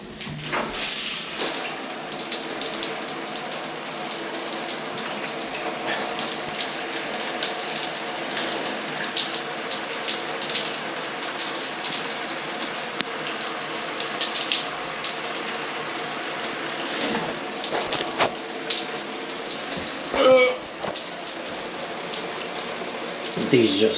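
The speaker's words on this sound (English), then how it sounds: "Let's go run some water." Tap water running from a household faucet during a handyman repair job, a steady rushing stream lasting throughout with occasional clatters and handling noises nearby.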